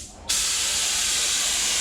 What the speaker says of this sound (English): when you spray that far back, you have to slow down a little bit